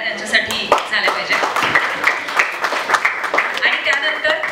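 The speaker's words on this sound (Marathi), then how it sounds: "मला वाटतं जोरदार टाळ्या त्यांच्यासाठी झाल्या पाहिजे" Audience clapping for the actors at a film trailer launch event, a mix of sharp individual claps in an uneven rhythm, fairly close and lively, with some voices mixed in.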